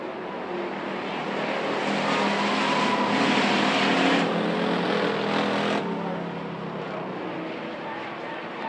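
Pick-A-Part factory stock cars racing at Perris Auto Speedway, engines roaring in a broad, rising and falling drone as the pack passes at middle distance, under a commentator's voice.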